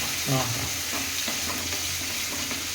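Sliced okra frying in oil, giving a close, steady sizzle with a few stirring scrapes of a spatula in the pan, and a brief vocal sound near the start.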